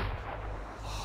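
Gunfire during target practice in Metro 2033 Redux, a dense, continuous rumble of shots and low booms with no clear gaps, steady and loud throughout.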